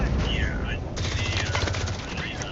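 Bursts of rapid gunfire from a shooter video game, including SMG fire, crackle through the middle and end of the moment, mixed with players' voices and steady game noise.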